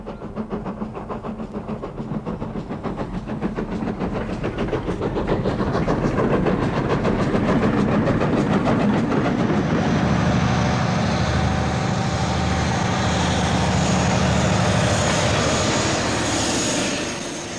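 A train runs along the railway, a loud continuous rumble and rhythmic churning that swells up over several seconds and then holds steady, with no voices.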